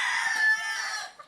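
Older hens in a breeding pen give a short, loud, bright cackling call lasting about a second, close by with no talk over it.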